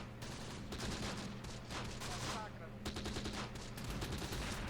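Rapid, dense gunfire and explosive cracks from a Semovente self-propelled gun in the Close Combat WWII strategy game rumble continuously, with bursts of machine-gun rattle layered over a heavy low roar.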